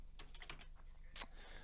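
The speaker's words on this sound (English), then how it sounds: "let's type in the settings" Quiet typing on a computer keyboard as chart settings are entered, several soft, close key clicks in an irregular run, ending in one sharper, louder tap.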